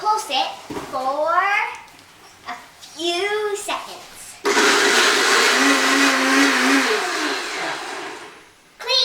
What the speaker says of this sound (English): And then you put it on the blender.